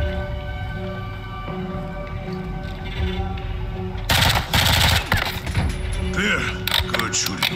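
Automatic gunfire in Call of Duty Modern Warfare 2, a sudden loud burst of rapid shots breaking in after a quieter stretch of ambience and voices, then fading into scattered noise.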